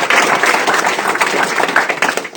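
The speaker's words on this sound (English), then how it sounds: "Everybody can clap." A crowd applauds at a 2015-2016 budget signing at the North Florida Criminal Justice Center, with dense, steady clapping that stays loud throughout and thins slightly at the end.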